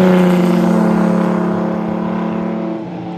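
A supercharged six-cylinder engine in a 1930s MG race car, the 1933 K2 or 1935 NA, produces a loud, close, steady droning tone whose pitch eases slightly downward as it settles.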